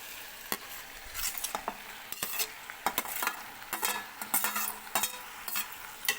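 Partly cooked potato curry being stirred in a sizzling pan, with repeated scraping strokes and clicks of the spoon over a constant frying hiss.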